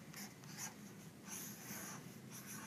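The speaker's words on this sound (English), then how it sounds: "And then I'm going to write my word." Marker or pen strokes drawing big bubble letters across a sheet of paper, a steady close scratching in several bursts with short pauses between strokes, no talking.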